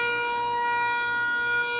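A civil defense siren sounds during a Monday-morning test in the U.S., holding a steady, sustained multi-tone wail at an even, fairly loud level with no voices over it.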